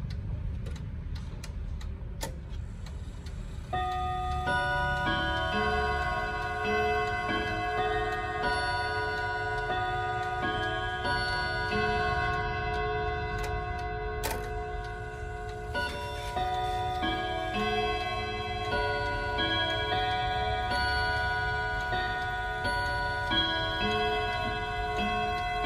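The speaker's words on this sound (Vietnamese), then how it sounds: "Bây giờ em sẽ cho các bác nghe tiếng chuông của chiếc đồng hồ này." A French FFR wall clock from the 1950s–60s with an eight-gong Westminster chime rings out, a few ticks first, then clear, sustained bell-like tones ringing one after another, layered and resonant, with no talking.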